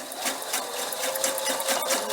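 A sewing machine stitches through bulky quilted fabric for a bunny bag, running close and loud in a fast, even whirring rhythm with no talk over it.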